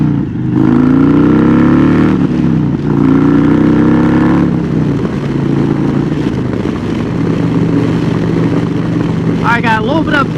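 An Indian Chieftain motorcycle with a Freedom Shield windshield accelerates up to speed, its loud engine note climbing through a couple of gear pulls before settling into a steady cruising drone under heavy wind rush.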